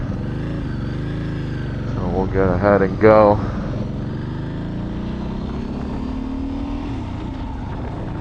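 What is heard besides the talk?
Ducati Monster S2R 2006 motorcycle riding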